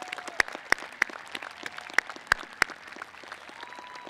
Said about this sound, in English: please join me in giving a big round of applause to our parents and guardians